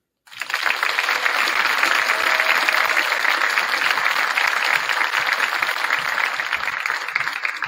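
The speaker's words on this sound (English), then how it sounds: "Please give her a big round of applause." Audience at a school mental health and anti-bullying presentation applauding a young student speaker, dense steady clapping starting abruptly and holding strong for several seconds with no talk over it.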